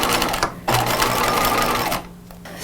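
Sewing machine stitching the out seam of a pajama pant leg, a loud close rapid whir running steadily for about a second and a half between brief pauses.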